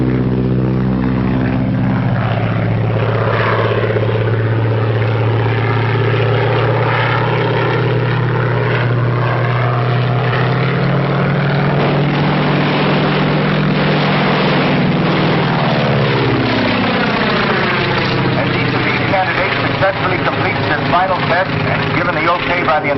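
Propeller planes approach an airfield and dive during a gunnery test, their engine drone rising and falling in pitch and growing louder toward the end, with someone narrating over it throughout.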